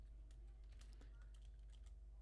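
Faint, quick keystrokes tap on a computer keyboard while code is being entered, a short run of light clicks under a steady low background hum.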